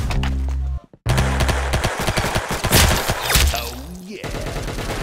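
Rapid bursts of gunfire in the Roblox game Arsenal come loud and close, with dense repeated shots, a brief pause, then more firing through the rest of the round.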